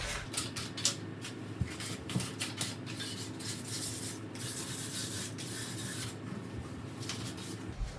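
Furniture surfaces are hand-sanded before painting, a close continuous scratchy rubbing with rhythmic strokes and a few light knocks, no talking.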